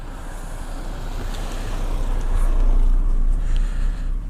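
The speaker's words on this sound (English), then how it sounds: "Oh, another car" A car approaches and passes on a busy road on Dartmoor near Widecombe in the Moor, a steady rushing roar that swells and fades over a few seconds, mixed with wind noise.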